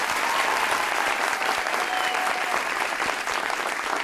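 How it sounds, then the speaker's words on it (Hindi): Studio audience applause welcoming a talk show guest, a steady dense clapping that fills the space loudly and evenly throughout, with no voices on top. "नाम लिया नहीं फिर भी तालियां बज गई"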